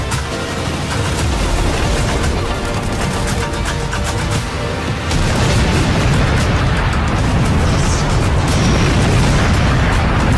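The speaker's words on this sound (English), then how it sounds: "the railgun can shoot a powerful beam of energy" Just Cause 4 railgun energy-beam blasts and explosions form a dense, continuous barrage of booms and rumbling bursts that stays loud throughout without letting up.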